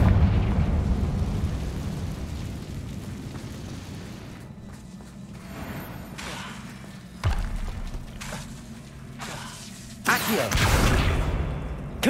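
Confringo fire spells cast in the video game Hogwarts Legacy burst into several booming blasts over dense game sound, with sharper explosive hits near the middle and a loud eruption toward the end.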